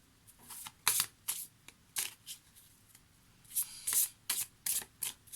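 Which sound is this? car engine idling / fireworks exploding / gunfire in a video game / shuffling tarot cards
shuffling tarot cards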